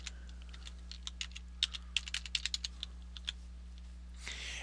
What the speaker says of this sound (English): you'll be asked to type in your password again